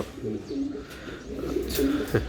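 A racing pigeon coos near the microphone in soft, repeated throaty rolls over a steady background hum.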